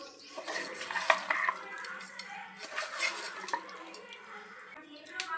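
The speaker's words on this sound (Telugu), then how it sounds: "ఇప్పుడు ఎలా కలుపుతాను చూపిస్తా. చేస్తూనే కలుపుతాను." Mutton is stirred in oil in a metal pan, giving close, busy scraping and clinking of a utensil against the pan with faint sizzle, while a person talks over it.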